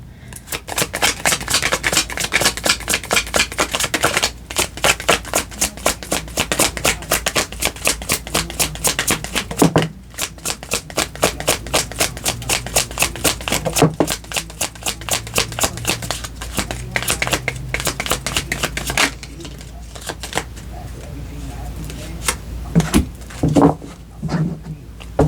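Tarot cards being shuffled by hand, a long run of dense, rapid riffling flutters that repeat in bursts with brief pauses, close and steady throughout.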